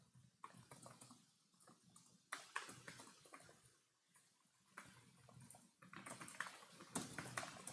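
Someone types on a computer keyboard during a Codeforces programming contest, with quiet bursts of rapid key clicks broken by brief pauses, close and faint.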